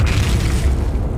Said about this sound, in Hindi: ये धमाका तो बहुत बड़ा है